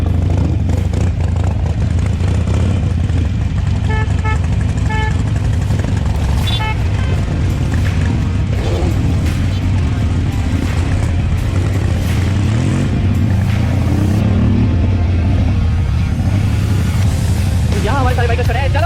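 Motorcycles idle and rev together as bearded riders assemble for a group ride to Amar Jawan Jyoti in Jaipur, a steady low engine rumble running throughout under crowd chatter and talk.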